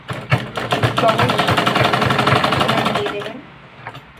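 A sewing machine stitches cotton fabric in a diagonal line, its rapid, rhythmic, close mechanical chatter running steadily before stopping near the end while someone speaks over it.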